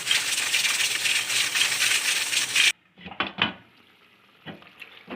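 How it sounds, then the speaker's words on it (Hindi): A pressure cooker holding mutton, cooked for about fifteen to twenty minutes for saag gosht, gives a loud, steady steam hiss that cuts off abruptly, followed by close metallic clinks and rattles of the lid and pot. "प्रेशर कुकर हमने खोले"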